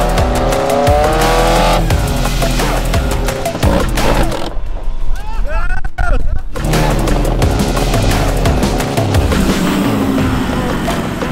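Off-road Mazda Miata roaring through laps, a loud revving engine rising and falling with tire squeals and skids, close and sustained, with a brief dip in engine noise midway and some voices mixed in.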